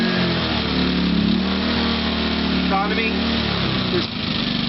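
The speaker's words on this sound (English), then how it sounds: "I'll go ahead and start up one of the CPE generators here" A CPE portable generator runs with a steady mid-pitched engine drone and harmonic hum, close and loud, while someone speaks over it.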